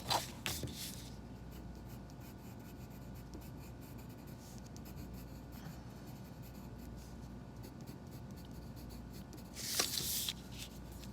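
Colored pencil on paper in a tree-drawing session: steady, soft scratchy strokes run continuously and close up, broken by a couple of brief louder rustles near the start and end.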